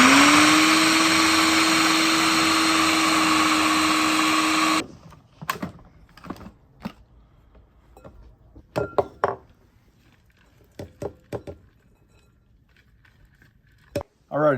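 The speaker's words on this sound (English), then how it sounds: "I thought just let the food processor do the work for you" A food processor blends cheese, butter and cream cheese in a loud, steady whir for about five seconds, then stops abruptly, giving way to scattered clinks, knocks and handling sounds.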